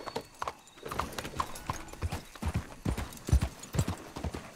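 Horse hooves clip-clopping in the video game Red Dead Redemption 2, a steady trotting rhythm of close, distinct hoofbeats with a brief whinny, no talk over it.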